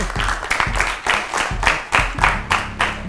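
Studio audience applause at a Senegalese children's television quiz show, a dense wash of clapping in pulsing swells, fairly loud with a low musical or hum layer running beneath it.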